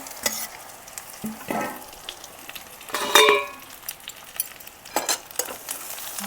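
Sesame seeds and curry leaves hit hot oil while tempering for Gujarati patra, making a steady crackling sizzle with scattered spoon scrapes and clinks and one brief louder burst, heard up close.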